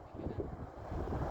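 A large airliner slows on the runway after landing, heard as a steady, rushing broadband roar with a low rumble, wind-like and continuous through a brief stretch.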